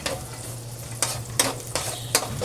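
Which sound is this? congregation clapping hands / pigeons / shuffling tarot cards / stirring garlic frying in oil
stirring garlic frying in oil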